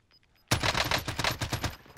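Rapid automatic gunfire in a battle royale video game breaks in suddenly after a short quiet gap, a loud, close burst of closely spaced shots lasting over a second.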